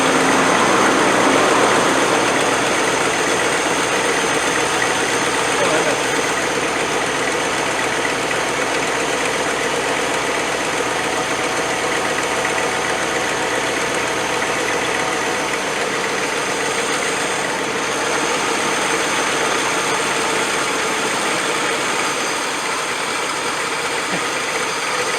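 A 1985 Land Rover 110 ex-NATO V8 idles steadily and fairly loud at close range, with a constant engine drone and a blowing exhaust running through the whole stretch, no voices over it.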